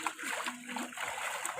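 Children splash and play in water during the rainy season, with quick faint splashes and sloshing and soft voices mixed in.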